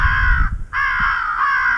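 Harsh crow fight calls blaring from an electronic game caller during a crow hunt, two long loud raspy caws separated by a brief gap, close and dominant.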